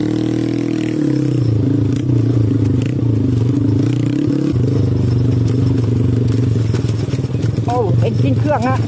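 A Honda MSX converted into a dirt bike descends a dusty mountain enduro trail, its engine droning and braking with rough, uneven pulses and scraping clatter, while someone talks over it throughout.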